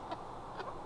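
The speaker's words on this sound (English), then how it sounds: "we have to do a little chicken check" Hens in a coop give two soft, brief clucks set against a steady background hum, faint and fairly close.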